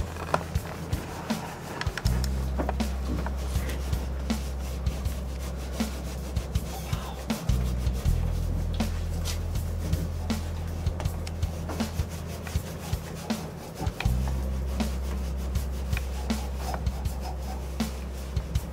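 Spirisponge dabbed in Norwex cleaning paste and scrubbed over a shower, a close, continuous rubbing scrape with frequent small knocks and a low hum beneath.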